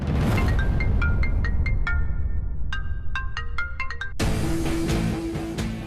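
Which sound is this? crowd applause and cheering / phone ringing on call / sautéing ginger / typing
phone ringing on call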